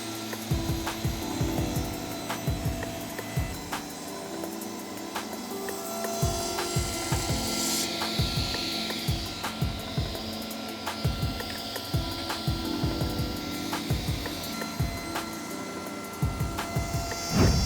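A table saw blade bites repeatedly into wood while cutting a dado for a step stool, each pass a loud rough burst over a constant motor whine, with short pauses between cuts.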